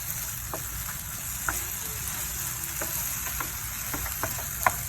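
Tomato and eggs frying in a pan, a close, continuous sizzle with scattered small pops and a few soft utensil taps.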